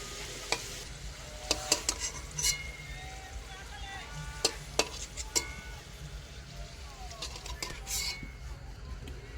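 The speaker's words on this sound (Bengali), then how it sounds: "আলুগুলো ভাজা হয়ে গেছে, এবার তুলে নেব।" Potatoes fry in a pan with a faint, soft sizzle, broken by sharp clinks and scrapes of a utensil against the pan.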